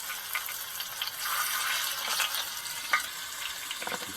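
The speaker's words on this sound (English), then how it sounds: "Oh, there's the sizzle right there." Catfish fries in bacon grease in a pan aboard a sailboat, giving a steady close crackling sizzle with scattered sharper pops and no talking.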